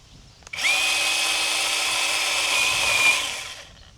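A SeeSii battery-powered pole saw cuts through a tree branch, its motor whining up sharply and holding a steady, close, loud buzz for about three seconds before spinning down.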